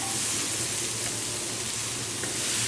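Vegetables sizzling in a paella pan for seafood paella, a steady, loud frying hiss that runs without a break and with no voices.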